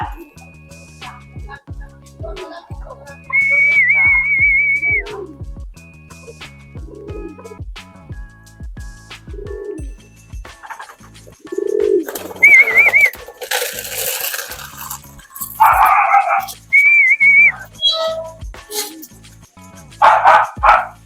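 Racing pigeons coo and flutter at a pigeon club, mixed with repeated nearby dog barks and yips, some bird calls rising loud in short bursts with pauses between.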